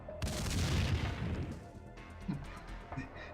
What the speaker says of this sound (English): Did they just kill themselves with a grenade?